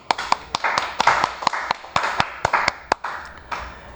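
A classroom of students clapping in short, uneven bursts of sharp hand claps, fairly close and loud, with no talking.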